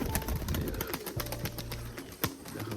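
Crested pigeons cooing near a rural rooftop, soft low repeated coos amid rustling and clattering wing or handling noises, fairly close.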